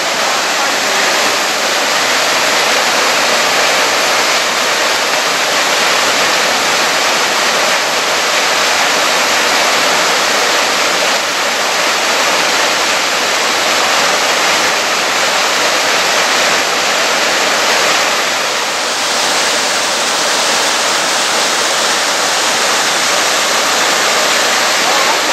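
Rushing water on a Blue Mountains bushwalk along the Grand Canyon loop below Evans Lookout, a loud, steady broadband roar of a waterfall or creek that holds constant for the whole stretch, with no clear voices.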